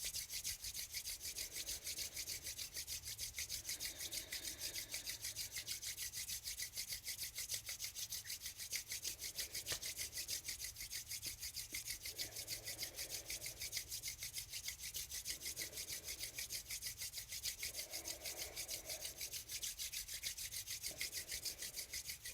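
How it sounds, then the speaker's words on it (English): Palms rubbed together vigorously during a Kundalini yoga exercise, a steady continuous friction hiss with soft rhythmic swells, close and fairly quiet, no voices. "begin to rub the palms together vigorously"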